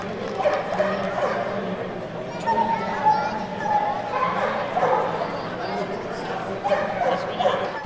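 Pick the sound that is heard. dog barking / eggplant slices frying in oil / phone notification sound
dog barking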